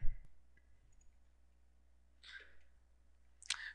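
A computer mouse gives a few sharp, isolated clicks, spaced seconds apart, in a quiet room during website editing.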